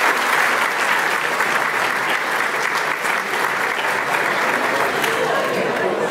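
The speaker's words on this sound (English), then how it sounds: "How about a round of applause for all of our incredible finalists?" An awards-night audience applauds the finalists with sustained, even clapping that fills the room without pause for about six seconds, a few voices mixed in.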